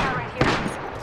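Gunfire aimed at the player during a shooter video game, a short burst of shots centered in a one-second span, fairly loud, with faint game voice nearby.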